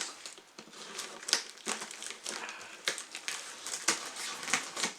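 Packing tape tearing and peeling off a cardboard shipping box, a series of sharp crackling rips in quick irregular bursts, close and moderately loud with no talking.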